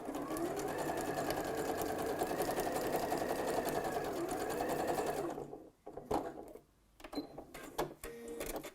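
A sewing machine runs a steady zigzag stitch through two layers of fabric for about five seconds, close and continuous, then stops, leaving a few soft handling clicks and rustles.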